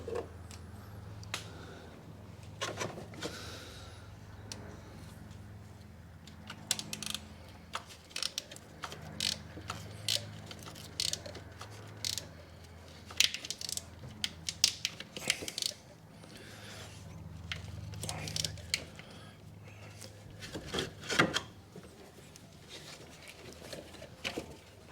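A ratchet wrench clicks in short irregular bursts while tightening the thermostat housing on a 2007 Ford Fiesta 1.6 petrol engine, sharp ticks spread over a low background hum with quiet pauses between turns.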